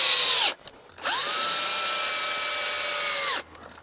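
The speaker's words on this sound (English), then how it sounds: "start a couple screws to hold it in place." A power drill drives coated decking screws into RV corner molding, two high whining bursts, a short one then a longer steady run, with the motor winding up and spinning down each time.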